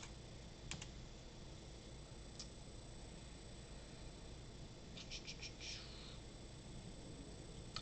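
Faint computer keyboard typing of a Google search, a few brief clusters of key clicks under a steady background hiss in a quiet room, no talking.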